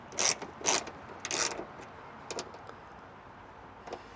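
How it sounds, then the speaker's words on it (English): A T30 Torx driver loosens bolts on the rear door handle of a 1997–2004 Nissan Pathfinder, giving a few faint, short clicking and grinding bursts, quiet and close with pauses between. "now we're gonna take a T30 Torx and start loosening these guys up"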